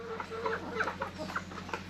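Chickens near a coop clucking in soft, irregular bursts, several short calls overlapping at close range against a faint steady background hum.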